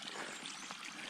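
A mountain stream on the Hancocks trail runs over rocks before going underground, giving a faint, steady trickling and rushing of water heard alone in a short stretch.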